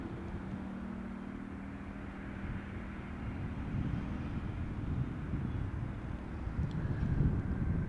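Etihad airliner arriving at Amsterdam Schiphol Airport, a low, steady jet rumble building gradually under wind noise from a distance, moderately faint and continuous throughout.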